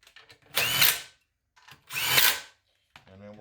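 A power driver runs up the head bolts on a Honda GX160 engine in two close, loud bursts of about half a second each, separated by a pause, followed by a brief quieter start.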